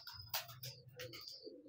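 Soft, faint cooing of a domestic pigeon held in the hand, a few short low calls with brief chirp-like notes, heard alone at a distance.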